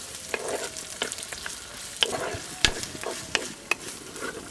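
Three medium-sized onions, cut into pieces, fry in hot oil in a pot. The oil sizzles steadily close up, with sharp pops and scraping stirs dotted throughout.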